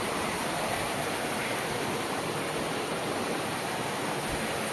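A shallow stream flows through a canyon, its water rushing in a steady, dense hiss that stays close and even throughout, with no voices over it.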